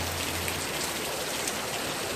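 Steady rain falls on a surface in Zimbabwe, a constant close hiss of many drops with no voices.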